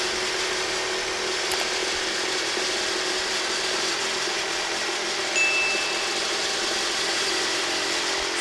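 Two cordless reciprocating saws, a Milwaukee M18 Super Sawzall and a Makita 36V, cut with orbital action off, making a continuous loud, rattling mechanical buzz that stays steady throughout.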